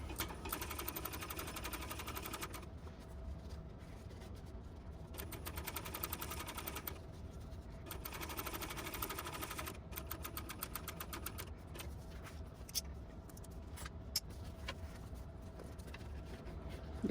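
Sewing machine stitching an Atlantis pouch, running steadily in bursts with a fast mechanical rattle and brief pauses between runs, close and fairly loud, with no voices.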